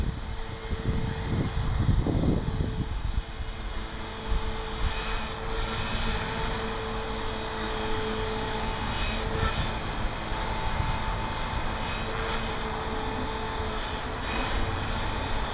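An HK-450TT Pro flybarless RC helicopter runs in idle up, its steady high whine and rotor buzz holding close and constant with no talk.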